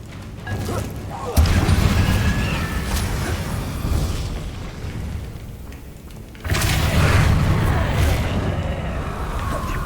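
Booming magical blasts from the Depulso force spell in Hogwarts Legacy, two heavy low rumbles, one at the start and another about two-thirds through, each lingering loudly over game ambience.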